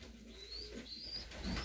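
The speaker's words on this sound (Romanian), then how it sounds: "Un super porumbel." A prize racing pigeon from Charlequins and Kaufmann lines gives soft, faint cooing and a few thin chirps over a low background hum, with a brief rustle near the end.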